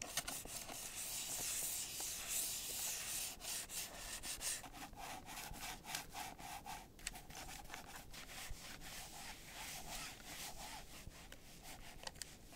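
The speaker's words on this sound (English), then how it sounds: "Here's a sound test with my Razer Naga Hex V2." A Razer Naga Hex V2 mouse slides back and forth across a Xiaomi aluminum mousepad, giving a faint, continuous scraping rub with quick repeated strokes, close and quiet with no voices.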